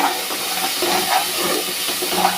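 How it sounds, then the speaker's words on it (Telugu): Masala for a curry frying in oil over low heat gives off a steady, close sizzling hiss with faint stirring scrapes. "ఇది బాగా ఫ్రై అవ్వాలి"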